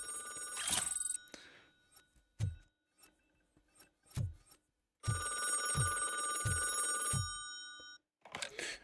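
A telephone rings in the video game RoboCop Rogue City with a bright, electronic ringing in two long bursts. Short thuds and clicks fall in between, and a voice answers briefly.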